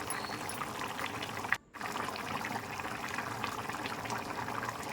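Andhra-style fish curry simmering in a covered pot, a soft continuous bubbling hiss broken by a brief clunk and dip as the lid is lifted.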